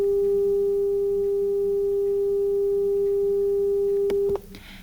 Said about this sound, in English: I'm going to simulate for you, this is what 400 hertz sounds like